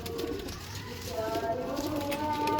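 A Kasuri pigeon coos softly in a loft, low throaty calls repeating against a murmur of other birds and someone talking nearby.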